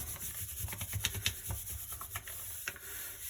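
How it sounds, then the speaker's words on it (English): Hand burnishing of a block print, rubbing around the edges of the paper on the inked block, giving soft scratchy rubbing strokes with a few sharper scrapes, close up and fairly quiet. "So I'm just going to burnish it again, going around the edges."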